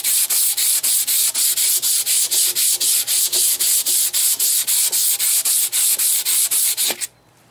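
Sandpaper worked by hand across a metal trailer hitch part for a Harley Sportster, giving loud, steady back-and-forth rasping strokes at a brisk even rhythm, close up and alone, stopping abruptly near the end.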